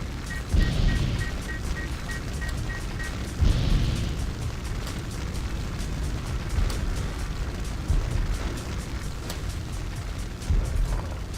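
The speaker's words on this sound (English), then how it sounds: "Now I can set buildings on fire." Buildings catch fire in the zombie video game Zomber, with repeated low booming bursts of flame roughly every few seconds over a steady crackling, roaring fire bed, loud and without speech.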